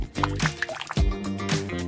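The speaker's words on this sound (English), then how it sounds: "I'll pour the soda onto it." A tiny bottle of soda pours onto a spoon: close, short liquid splashes and dribbles with a couple of sloshing surges over under two seconds.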